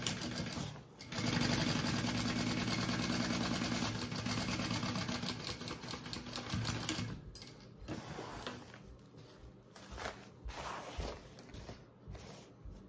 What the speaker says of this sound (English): I'm also going to just baste this back two pieces together.